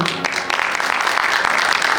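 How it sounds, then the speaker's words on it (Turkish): Audience at an academic award ceremony applauds the academics invited onstage, a steady, dense crowd clapping throughout with a faint voice early on. "Lütfen alkışlarımızla onlara olan desteğimizi gösterelim."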